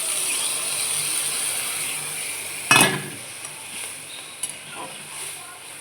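Food frying in a pan for a Bengali potato and pointed gourd mustard dish, giving a steady soft sizzle with a brief louder clatter of stirring near the middle and a few faint clinks afterward.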